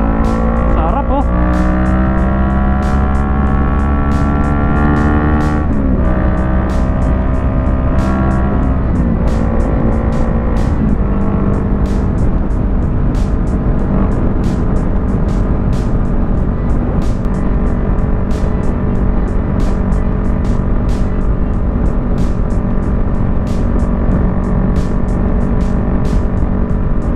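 Kawasaki Z650 motorcycle engine and exhaust pipe run continuously and loud, revving with rising and falling pitch through gear changes on a drizzly road ride, with brief speech over it.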